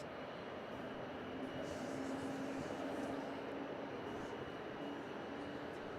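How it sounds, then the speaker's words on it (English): Jetstar Airbus A321neo from Launceston landing at Melbourne Airport, a steady broadband engine roar that swells slightly as it passes over the threshold, heard from a distance without speech. "we're waiting for Jetstar 321 Neo from Launceston. Just coming over the threshold."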